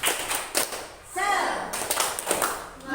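A classroom of students claps out a rhythmic cheer routine, with bursts of hand claps between and over voices chanting and talking.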